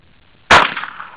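One sharp crack of a Mosin Nagant rifle shot striking a glass Martinelli's bottle, a brief bright report with a short ringing tail, close and loud, with no voices.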